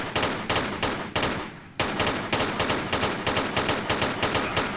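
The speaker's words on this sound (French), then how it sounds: "les pistolets font beaucoup de bruit dans ce jeu" Pistol gunfire in Tomb Raider III rings out in a rapid, loud string of evenly spaced shots, with one brief pause before the steady firing resumes.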